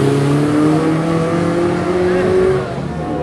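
A reconditioned historic car climbs a hill at a historic hill-climb event, its engine roaring loud and close, holding a steady strained note before easing off near the end.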